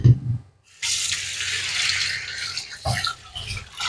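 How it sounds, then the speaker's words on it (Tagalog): Raw chicken rinsed under a running kitchen tap, a steady broadband gush of water flowing into the sink with a short pause and brief splashing bursts, close and fairly loud with no talk. "Hugasan natin siya."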